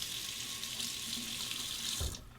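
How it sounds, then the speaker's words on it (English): Hot water gushing steadily from a bathroom tap over a black Muhle R41 safety razor, a close, bright continuous hiss that stops abruptly near the end with a small clunk. "Let's warm it up under the hot water"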